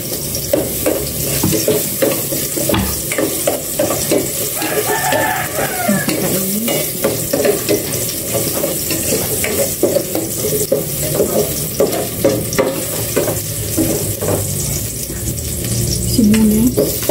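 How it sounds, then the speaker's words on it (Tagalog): Garlic sautéing loudly in a pan, with a dense continuous sizzle and busy scraping and clattering of a utensil stirring it close by, with no talk. "Igisa ko na itong bawang."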